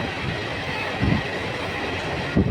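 A train runs along rails on the line toward Alipurduar, its continuous rumble broken by a couple of clickety-clack wheel thumps, heard close and loud with no talk.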